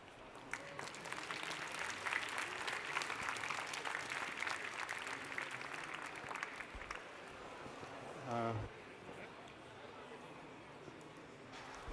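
A conference audience applauds with a steady round of clapping that lasts several seconds and then thins out, followed by a brief low thump.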